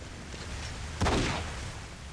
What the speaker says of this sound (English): Can you give me a gunshot?